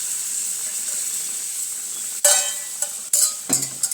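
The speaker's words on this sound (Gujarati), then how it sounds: "દૂધ બળી જાય ત્યાં સુધી આપણે તેને હલાવતા રહીશું" Milk is stirred in a pan on the stove, with a soft steady hiss that turns into a few sharp scraping and sizzling bursts as the spoon moves, close and clear.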